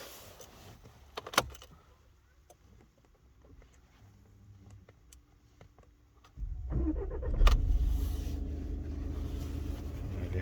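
A 2018 Volkswagen Golf 7 1.6 diesel engine with start-stop cranks and catches at once, then settles into a steady idle rumble after a brief click and quiet moment.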